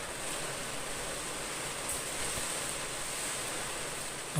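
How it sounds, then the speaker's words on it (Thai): Heavy rain roars steadily with a strong wind, a dense, constant wash of noise with no voices. "โอ้ย ฝนเริ่มตกหนักละ"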